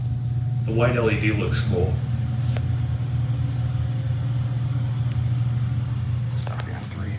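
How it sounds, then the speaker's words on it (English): Otis hydraulic elevator motor with a failing, rumbly motor in a Disney's Yacht Club Resort back elevator, a steady low hum and rumble droning throughout under a brief spoken comment. "Oh, that was really rumbly. I think the motor's dying out on this thing."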